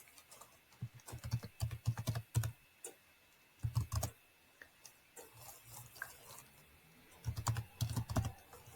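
Computer keyboard typing in bursts of quick key clicks, with pauses between runs, fairly close and moderately quiet, no voices over it.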